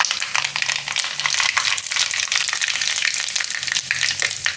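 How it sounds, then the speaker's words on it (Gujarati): Mustard seeds and cumin crackling in hot oil, a loud, close, busy sizzle full of rapid popping and spitting that runs without a break for the whole stretch. "તો તેલમાં આપણે નાખીશું રાઈ અને થોડું જીરું"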